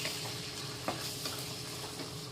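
A vegetable gravy is stirred and mixed in a hot pan, giving a steady sizzle broken by soft scraping strokes of the spoon, close up and with no talking.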